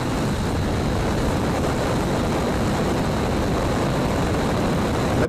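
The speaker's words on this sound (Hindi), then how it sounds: "अब सभी इंजन टेक ऑफ के लिए रेडी है तो इंजन इग्नाइट होते हैं" Reusable rocket engines igniting at launch roar in one dense, continuous blast, loud and unbroken from start to finish.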